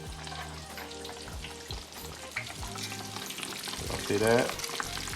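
Catfish fillets fry in hot oil with a steady, dense crackle and sizzle from start to end, and a voice speaks briefly near the end.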